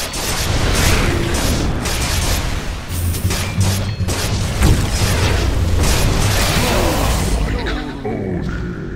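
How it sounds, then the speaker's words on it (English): Dota 2 esports match with a tower being destroyed, a dense, loud, continuous mix of booming impacts, crashes and spell effects with no break, and game narration and commentary voices running under the din. "Dire's middle tower has fallen."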